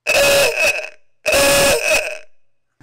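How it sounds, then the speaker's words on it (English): Ahooga-style horn on a VW Bug sounding twice, each a loud, raspy, buzzing honk lasting about a second with a falling tail and a brief pause between the two. "the Auga horn"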